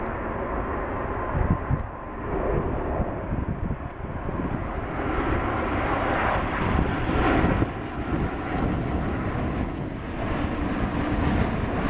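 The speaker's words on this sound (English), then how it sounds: "KLM 787-10 coming into Dulles International Airport" A KLM Boeing 787-10 airliner comes in to land at Dulles International Airport, its engines giving a loud, sustained roar with a broad rushing tone that stays steady for the whole stretch, roughened by some wind buffeting.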